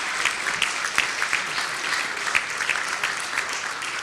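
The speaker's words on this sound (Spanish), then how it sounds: "Un aplauso a este panel." An audience applauds a discussion panel, steady dense clapping throughout at moderate loudness, with no voices over it.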